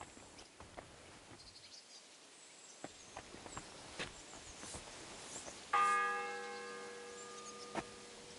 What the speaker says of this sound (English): It's the 8th bell. I need to hurry.